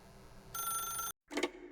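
A telephone rings in the video game The Stanley Parable: a bright electronic trill, fairly faint, runs for about half a second, then a short silence and a brief second burst.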